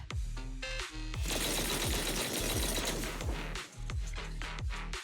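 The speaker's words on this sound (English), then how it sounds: "That was the sound of a heavy cannon?" Heavy cannon fire in the video game Zenless Zone Zero: loud, dense bursts of rapid mechanical blasts with falling tonal sweeps, continuous for several seconds with brief breaks and no talking.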